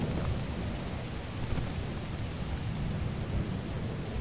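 Rain falls in a thunderstorm in the video game Lethal Company, a dense, steady hiss with a low rumble underneath that stays loud and even throughout, with no voices.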